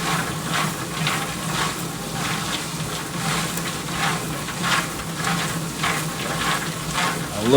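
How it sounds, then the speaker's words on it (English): Dill pickle seasoned popcorn being stirred and tossed in a bowl, a steady close rustling and rattling texture with soft rhythmic pulses throughout, no voices. "A little bit more mixing."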